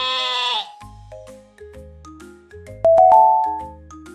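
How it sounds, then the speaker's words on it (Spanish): A farm sheep bleats one long wavering cry, followed by a bright melodic children's tune with bell-like tones, loud and close with no talking. "Oveja."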